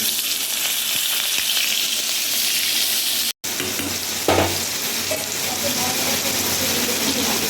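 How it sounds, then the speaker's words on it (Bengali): Carrots and potatoes fry in mustard oil in a hot wok for dal, a continuous close sizzle with stirring scrapes, one brief cut and a soft clunk partway through. "এখন সর্ষের তেল দিয়ে দিয়েছি, গাজর আর আলুটা ডালের জন্য ভেজে নিই।"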